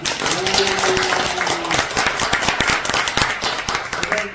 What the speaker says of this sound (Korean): 여러분들의 힘찬 박수로 시작하도록 하겠습니다